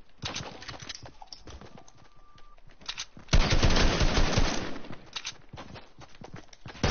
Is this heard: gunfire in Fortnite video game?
yes